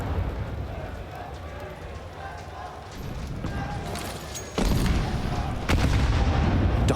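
Grenades exploding in a Counter-Strike 2 match on the Anubis map, two loud booming blasts landing close together near the end amid gunfire and a busy battle, with a commentator talking throughout.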